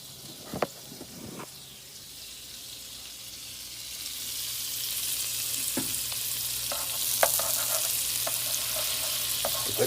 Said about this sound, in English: Get the country crock butter melted.